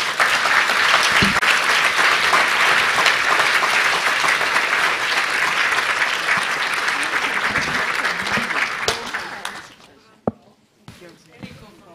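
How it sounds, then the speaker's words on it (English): Loud, steady audience applause for panelists at a policy forum, sustained for about nine seconds before tapering off into scattered claps and quiet room noise. "a big round of applause to our fantastic panelists"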